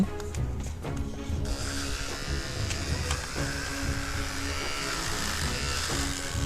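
Electric hair clippers buzz steadily up close while cutting a child's hair at home, a continuous motor drone whose tone shifts slightly as the blades move through the hair.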